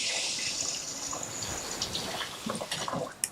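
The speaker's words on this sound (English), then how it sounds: "I'm gonna rinse my hands a little bit too" Running tap water pours steadily over rinsing hands at a kitchen sink, a close, even hiss with small splashes and shifts as the hands move through the stream.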